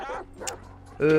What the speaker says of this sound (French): Donc là c'est le chien qui va poursuivre